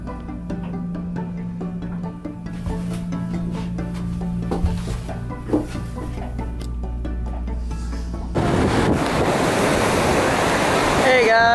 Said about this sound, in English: I'm down at the beach now